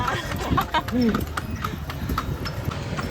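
Horse hooves clip-clop in a steady rhythm as the horse pulls a carriage through Lampang, close and distinct under a person speaking, with a short whinny-like tone early on.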